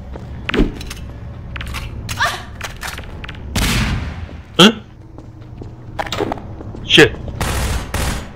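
Automated turrets in Half-Life 2 fire in sharp, rapid bursts, loud and close, broken by pauses and other impacts, while a voice talks over them.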